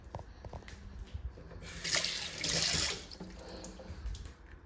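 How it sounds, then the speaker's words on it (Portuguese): A hand is wetted with water while making long-fermentation pizza dough, with a brief burst of splashing and trickling mid-clip, otherwise quiet dripping. "E aí eu vou umedecer minha mão de novo."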